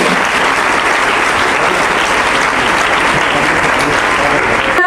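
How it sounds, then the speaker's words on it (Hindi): Audience applause at a talent award ceremony in Haryana rolls on as a dense, loud wash of clapping from a large crowd, steady throughout and ending abruptly. "बेटी के लिए जोरदार तालियां हो।"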